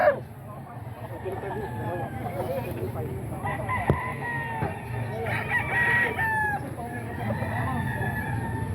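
Roosters crow repeatedly at the Bocaue chicken market, several overlapping calls rising over a busy crowd of talking people and general market bustle.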